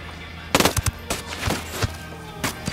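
Gunfire in the game Ghost Recon Wildlands, a few sharp, loud cracks in quick, uneven succession over a short stretch, with no voices over them.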